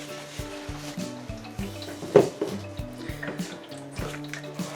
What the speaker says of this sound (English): So it says here, add the water.